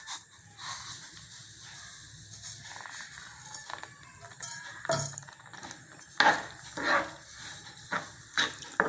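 A spoon stirring carrot and moong dal halwa in a pan, scraping and clinking against the metal with soft sizzling, in uneven close strokes.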